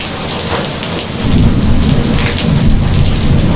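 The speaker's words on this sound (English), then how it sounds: "And Mr. Thunder is here, so you know I won't be out here very long." Heavy rain from Tropical Storm Elsa pours steadily while low thunder rumbles and swells in the background, with no voices.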